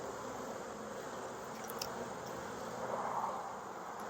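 Honey bees hum at a hive in Tennessee in October, a faint, steady, diffuse buzzing of many insects that holds without a break.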